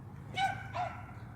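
A dog outdoors gives two short barks in quick succession, the pair close together and fairly near, over faint low background noise.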